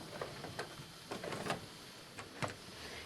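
A sewing machine reverses over an apron seam in short bursts of mechanical clatter, several quick stitching runs separated by brief pauses, close and moderately quiet.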